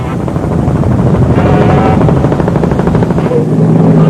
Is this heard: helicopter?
yes